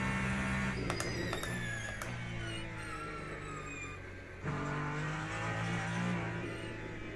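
A race car engine heard from the onboard view in Le Mans Ultimate: a loud, close, constant high-revving drone with a few quick gear-shift blips, then a fresh climb in pitch as it pulls again.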